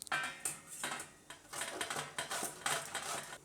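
Bottle gourd (dudhi) is rubbed against a metal grater in a quick series of rhythmic scraping strokes, close and moderately loud, with a brief rattle of the utensil between passes.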